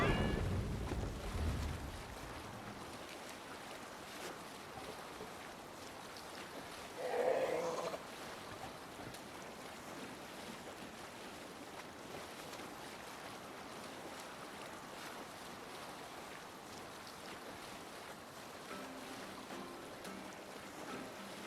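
A boat sails across the open sea in Assassin's Creed Valhalla. Faint, steady water wash and wind run throughout, with a brief swell of splashing midway.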